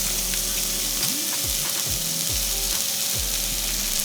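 Onions sizzle and fry in a teaspoon of sesame oil in a pan on an induction burner, a steady close crackle with a few scraping stirs and a faint electronic hum underneath.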